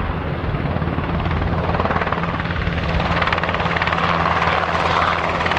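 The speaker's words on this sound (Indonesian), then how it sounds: "ada helikopter dengan 6 baling-baling. Ini helikopter angkatan darat." An army helicopter with six rotor blades flies overhead, producing a loud continuous rotor thrum and turbine whine that holds steady throughout, with no voices.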